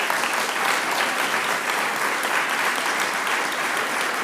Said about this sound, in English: please join me in giving them another round of applause for both of our inductees